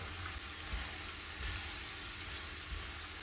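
Beef broth hits a hot pan of stir-fry noodles, giving a soft, steady hiss and sizzle with a few faint low bumps, heard quietly and alone.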